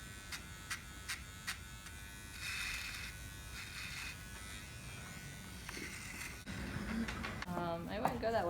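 Electric clippers buzz steadily through a fresh haircut outdoors, a continuous close hum with brief pauses and pitch shifts as the blade moves, while people talk and react in the background.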